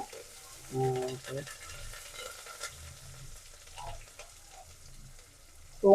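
Onion and green chillies with mustard seeds fry in oil in a pan, a soft, faint sizzle with occasional stirring scrapes and a clatter at the end.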